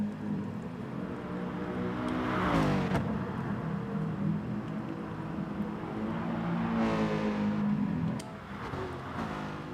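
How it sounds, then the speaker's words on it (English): An Aston Martin race car engine in a racing video game, revving and accelerating in two loud swelling passes, one after the other, with no talk. "That Aston Martin sounds so good."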